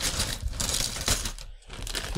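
A plastic bag from a Sembo building-brick set for a space station crinkles and rustles loudly up close, with busy bursts of crackling and one short pause.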